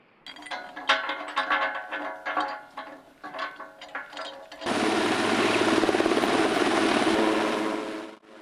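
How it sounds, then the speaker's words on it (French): Helicopter lifting power line pylons, its rotor and engine cutting in abruptly as a loud, steady close roar after several seconds of choppy, uneven earlier sound. "Avec l'hélicoptère, on commence à lever les pylônes"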